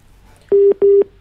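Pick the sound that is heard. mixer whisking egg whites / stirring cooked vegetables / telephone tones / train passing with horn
telephone tones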